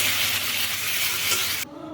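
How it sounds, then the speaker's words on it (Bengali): Food with chilli sizzles and fries hard in a hot pan, a dense loud hiss that runs steadily and then drops off sharply near the end, with no talking. "লঙ্কা এগুলো দিয়ে ভালো করে কষিয়ে বসিয়ে রান্না করছি।"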